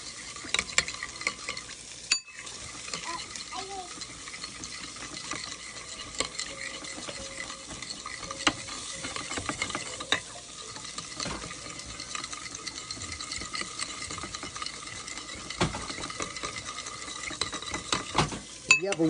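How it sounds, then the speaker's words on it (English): A spoon stirs together a dry rub for tri tip steak in a small bowl, with soft repeated scraping and clinking, close and quiet, interrupted by a few sharper knocks. "Now let's mix that up."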